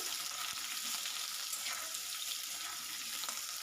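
Potato pieces frying in hot oil for an okra and potato curry, a steady bright sizzle with occasional soft stirring scrapes, close and continuous without talk.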